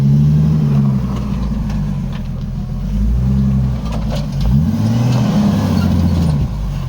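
An off-road vehicle crawls over rocks on the Rubicon Trail, its engine a steady low rumble that swells and dips as it revs over obstacles, loud and close, with no talk.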